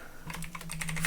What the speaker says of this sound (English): I'm not used to typing that much